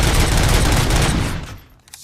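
Dense burst of automatic gunfire in a video game, rapid shots fired toward the listener, loud and continuous before cutting off abruptly near the end.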